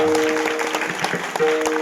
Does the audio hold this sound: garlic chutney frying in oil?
no